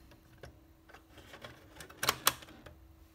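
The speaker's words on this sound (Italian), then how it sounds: "Il click a dimostrazione di come è stato inserito correttamente" A plastic toy poop piece from an Acchiappa la Cacca game snaps into place with two sharp, close clicks in quick succession, following soft handling taps.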